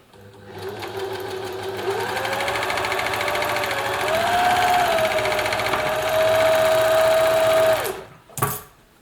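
A serger (overlocker) sewing machine runs steadily for about seven seconds, its whirring pitch rising slightly midway, before stopping, followed by a couple of brief handling clicks.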